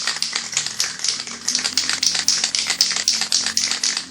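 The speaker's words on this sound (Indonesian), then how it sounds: "Kita kocok dulu piloknya supaya warnanya mudah." A spray paint can shaken hard by hand, its mixing ball rattling in rapid, even bursts of sharp metallic clicks, loud and close, with no talking.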